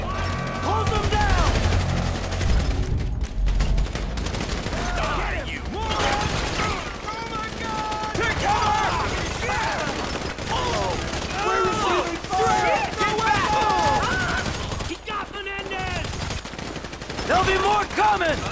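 A shootout in the video game GTA 5 during a heist mission, bursts of automatic gunfire and scattered shots crackling continuously while characters shout orders over the din.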